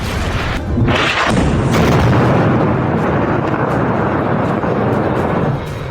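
An Iranian Khaibar and Emad missile attack produces a loud, sustained roaring boom that swells after the first second and rumbles on heavily for several seconds before easing off.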